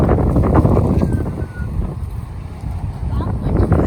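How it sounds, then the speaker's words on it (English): Strong wind gusting outdoors beside the Thames at Buscot in the Cotswolds, a steady buffeting roar across the mic that dips briefly midway, with people talking through it. "It is very windy now."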